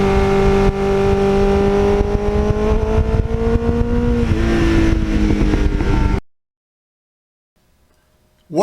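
A restored 1989 Kawasaki Ninja motorcycle engine while riding: a loud, close, continuous drone with a slight rise and shift in pitch that cuts off abruptly after about six seconds, leaving near silence.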